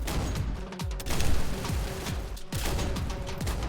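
AUG rifle fire in a Roblox shooter game, loud repeated rapid bursts of gunshots in close succession with brief pauses between volleys.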